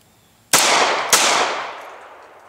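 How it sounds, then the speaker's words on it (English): Two loud, sharp gunshots about half a second apart from a Glock 22 pistol firing .40 CCI shotshells, each a close, cracking blast followed by a long decaying echo fading across open space. "Let's see whether or not these will cycle the Glock 22."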